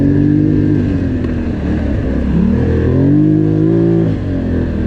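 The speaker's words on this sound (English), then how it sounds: "This engine's running today." A Polaris Sportsman XP 1000 Premium ATV engine revs hard while climbing a steep hill, a loud continuous near roar with rising and falling pitch as the throttle opens and eases, no voices.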